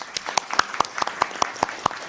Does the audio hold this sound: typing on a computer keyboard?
no